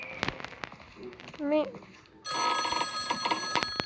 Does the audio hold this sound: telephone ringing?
yes